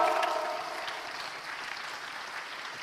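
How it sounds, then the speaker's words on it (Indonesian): Audience applause at an event, a dense wash of clapping that starts strong and holds steadily for about three seconds, slowly easing without dying away. "Kita berikan aplaus untuk Pak Lo."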